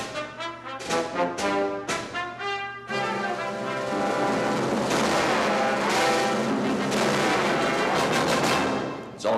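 A full Pennsylvania Philharmonic orchestra with brass and percussion plays fast in a major key: loud punchy staccato chords at first, then a sustained, bright tutti passage that stays strong to the end.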